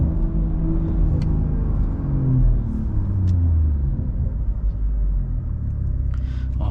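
A BMW B58 engine heard from inside the car while driving, a deep exhaust rumble that climbs and falls through gear changes, with faint sharp pops and crackles layered over the low drone.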